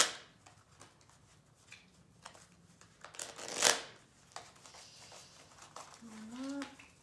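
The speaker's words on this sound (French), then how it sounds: "Je vais juste mélanger les cartes" Tarot cards shuffle in a run of soft riffling rustles, building to one loud, close flurry of snapping cards midway, and a voice speaks intermittently around them.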